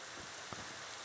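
Rain falls in the video game Minecraft as a brief, even hiss with a couple of soft low thumps, heard alone without speech.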